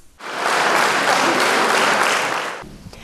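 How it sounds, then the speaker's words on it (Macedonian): A concert audience bursts into strong, sustained applause that swells quickly, holds as a dense wash of clapping for about two seconds, then fades abruptly. "Публиката возврати со силен аплауз."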